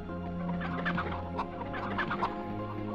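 Several hens in the PlayStation game MediEvil cluck in short, irregular bursts against a sustained low musical drone, the clucks close and moderately loud and overlapping with one another.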